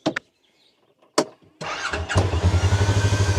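A ranch vehicle's engine cranks with a couple of clicks, catches and settles into a loud, steady, pulsing idle, close by.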